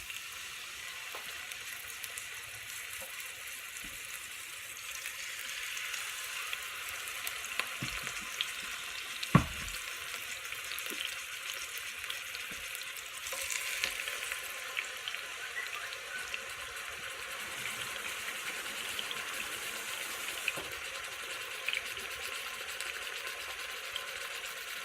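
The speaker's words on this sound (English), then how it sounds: "We're just getting a good sear on it." Pork chops searing in hot oil in a pan on the stove, a steady close crackling sizzle running throughout, with a few brief clinks and taps from handling partway through.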